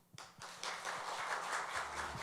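Applause at a Korean city council monitoring-group appointment ceremony begins with a few sharp claps and then builds into a moderate, steady audience clapping that continues to the end.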